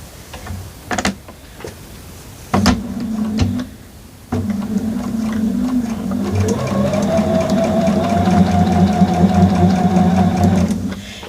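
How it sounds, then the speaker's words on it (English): A sewing machine chain stitching quilt block pieces runs in close, loud bursts, first a few short starts with clicks and thumps, then a sustained steady whir of stitching for several seconds before stopping. "I am going to go on and chain stitch all of these"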